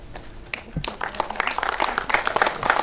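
An audience at a film festival panel session in Goa applauds during a memento presentation, scattered moderate clapping that builds after a moment and continues steadily.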